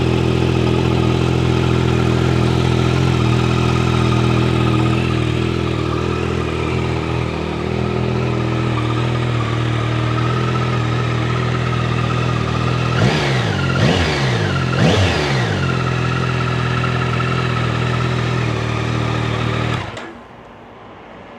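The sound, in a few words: Yamaha R9 CP3 engine idling and revving, exhaust note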